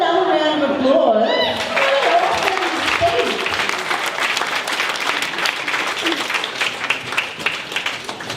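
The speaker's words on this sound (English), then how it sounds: "Let's have another round of applause." Guests at a wedding break into a round of applause after a toast; a voice speaks at the start, then loud, sustained clapping fills the room and continues steadily to the end.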